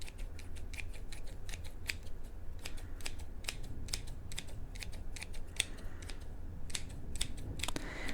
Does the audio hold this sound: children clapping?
no